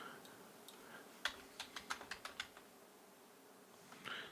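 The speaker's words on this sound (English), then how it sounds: "I got to type this up right because I'm actually typing John right now" Fingers tap on a computer keyboard in a quick burst of about a dozen crisp, close keystrokes, faint and otherwise quiet around them.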